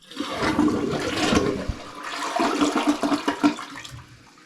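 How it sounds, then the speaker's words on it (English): A newly installed American Standard toilet flushes in a bathroom, a loud rushing swirl of water that surges, gurgles and drains over several seconds before tapering off, with no voices. "Go ahead and flush it."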